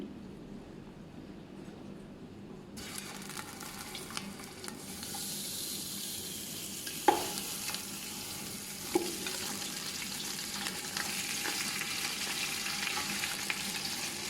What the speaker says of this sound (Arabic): خلينا زيت أمامكم، وراح نشوح اللحم